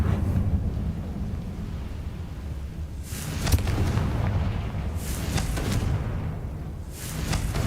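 Fire spell explosions in the Hogwarts Legacy video game, with three heavy booming blasts arriving a couple of seconds apart over a constant low game rumble, with no talking.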